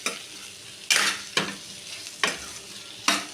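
A spoon scrapes and stirs potato fry in a hot pan, four distinct stirring strokes over a soft continuous sizzle, close and alone with no talking.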